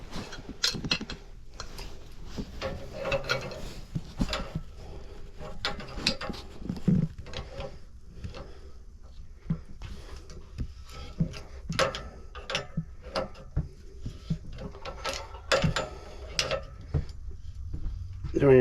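Brass union on a hot water tank being tightened by hand, giving close, irregular metallic clicks, ratcheting and clanks in short bursts over a low room background.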